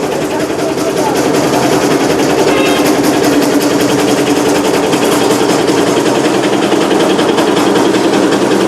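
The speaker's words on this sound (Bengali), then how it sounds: "সবাই তো মেশিন টেস্ট করে আটি খড় দিয়ে, এটা এলোমেলো খড় দেওয়া হচ্ছে।" A straw-processing machine runs steadily while being fed loose, unbundled straw, a loud continuous mechanical whirring and rattling throughout.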